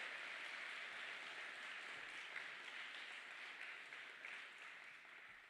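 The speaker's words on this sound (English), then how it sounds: "So let's just give them a round of applause and let them know we're waiting for them." An audience at an academic talk event claps in a steady, even wash of applause that holds for several seconds, faint and distant, then thins slightly toward the end.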